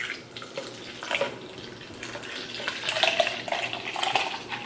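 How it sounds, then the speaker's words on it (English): Cold water pours into a Starbucks color-changing plastic cold cup, a steady splashing trickle with gurgling swells, close and continuous with no talking. "I'm gonna pour it just a little bit so we can compare the colors"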